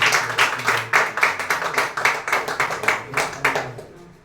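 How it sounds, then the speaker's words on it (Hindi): An audience claps loudly and steadily in a hall for about four seconds, a dense patter of many hands that fades out at the end. "एक जोरदार ताली।"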